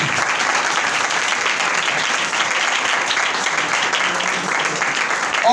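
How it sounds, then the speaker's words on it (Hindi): Loud, sustained applause from a gathered crowd at a church Christmas party in Attock, Pakistan, dense and unbroken clapping that fills the room close by for several seconds. "जोरदार तालियां।"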